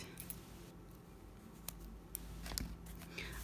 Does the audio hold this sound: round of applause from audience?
no